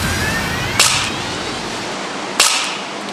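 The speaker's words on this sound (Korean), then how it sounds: "아이들이 안경을 쓰고 비비탄 총을 가지고 놀 때를 가정해 마네킹에 안경을 씌워봤는데요" Two sharp cracks from a BB gun fired at glasses worn by a mannequin, about one and a half seconds apart, each a bright snapping impact of the plastic pellet shattering the lens, over a steady background hiss.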